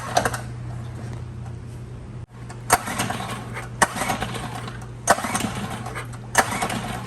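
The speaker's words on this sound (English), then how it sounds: "I want you to hear this motor that everybody says is far superior to anything else that's a Mercury" A Mercury portable outboard motor cranks and starts with a steady low engine drone, punctuated by several sharp clacking transients at irregular intervals as it runs near and fairly loud.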